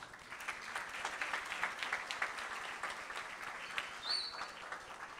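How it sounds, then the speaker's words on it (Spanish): Audience applause at a school event honoring a school community, a steady wash of clapping from a crowd that swells and holds for several seconds with no one speaking. "fortísimo ese aplauso para la Escuela 26"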